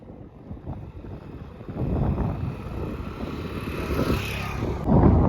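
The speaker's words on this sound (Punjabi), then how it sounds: "ਹਵਾ ਚੱਲੀ ਜਾਂਦੀ ਆ ਹਵਾ ਦਾ ਬੁੱਲਾ ਜਿਹੜਾ ਬਿਲਕੁਲ ਆਪਣੇ ਸਾਹਮਣੇ ਦੀ ਆਉਂਦਾ ਹੈਗਾ" Wind gusts blow head-on outdoors on a breezy day, buffeting the microphone with a rough, rumbling rush that swells and surges, loudest near the end, with no talking.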